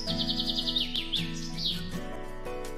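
A baby bird chirps close by in a home, with a quick run of high, bright repeated tweets followed by a few slower calls over a low background hum.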